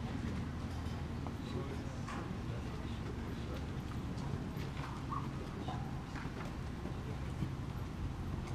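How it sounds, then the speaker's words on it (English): A horse walking at an equestrian competition arena, hooves giving a steady, faint clip-clop under a constant broad crowd and wind hum, with an announcer's voice in the background. "Riders, please walk your horse."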